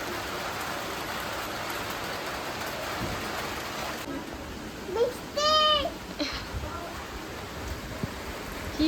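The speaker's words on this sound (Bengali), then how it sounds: "বৃষ্টি পড়ছে" Steady hiss of rain falling during Cyclone Remal, with a brief burst of a bird's rising calls midway and faint distant voices.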